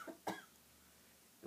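A patient gives two short coughs during a femoral hernia exam, the first soft and the second sharper, close and fairly quiet, with a hushed room between them and a third cough starting at the very end.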